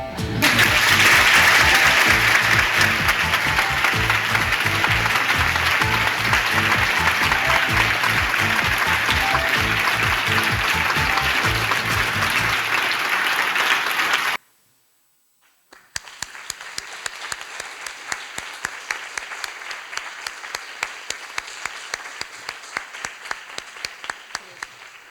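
Sustained audience applause at a university teaching-innovation conference, loud and dense for about fourteen seconds, then a brief silence before a second, thinner round of steady clapping resumes.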